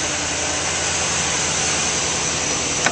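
A 2012 Chevrolet Silverado 2500 truck with a 6.0 liter engine runs as a loud, dense, steady roar close by, holding even for a few seconds and ending with a short click.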